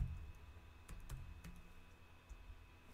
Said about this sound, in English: So simply, we will type in block ID and our target hard drive here.